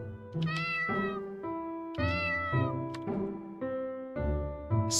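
A cat in the game Finding Paradise gives a series of clear, close meows, about six drawn-out calls of varying pitch in an uneven rhythm, with no voices.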